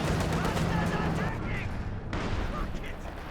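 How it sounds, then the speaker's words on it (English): Tank cannon shots in a World War II real-time strategy battle featuring a Panther, heard as dull booming reports under steady battlefield rumble, with a commentator's voice running over them. "Three shots, but only one of them connects on the Panther, the others miss"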